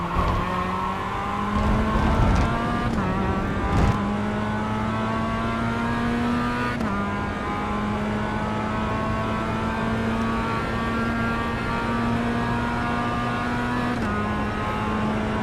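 A Mazda race car's engine droning at high revs in a racing video game, a continuous loud tone that shifts pitch through gear changes and small dips, steady throughout with no talk.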